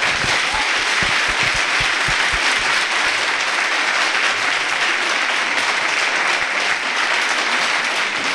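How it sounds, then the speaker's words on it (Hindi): A large audience at the Hyderabad Literature Festival applauds loudly and steadily, with dense continuous clapping that holds at full strength throughout, plus a few sharp individual claps near the start. "आपकी नाराज़गी आपकी तालियों की शक्ल में हम तक पहुंच गई।"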